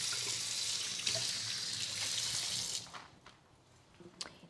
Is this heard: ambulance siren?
no